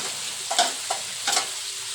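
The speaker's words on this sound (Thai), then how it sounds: "นี่ทอดเนื้อเฮาอยู่พี่ทอดเนื้อเฮานะ" Pork being fried in a pan, a steady sizzle with a few soft stirring scrapes and light clatters, close and fairly quiet, no voices.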